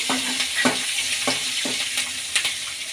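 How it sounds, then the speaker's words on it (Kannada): Green chillies sizzle steadily in hot oil in a pan while cooking mango curd gojju, with several sharp stirring scrapes and clinks of a spoon against the pan, no voices. "ಹಸಿಮೆಣ್ಸಿನ್ಕಾಯಿ ಕೂಡ ಹಾಕೋಬೋದು ಚೆನ್ನಾಗಿ ಫ್ರೈ ಆಗಲಿ"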